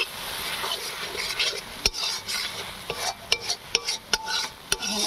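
Lote fish jhuri with green chillies stirred in a pan: a continuous soft sizzle with repeated close scraping strokes and sharp metallic clicks of a spatula, irregular in rhythm, with no talking.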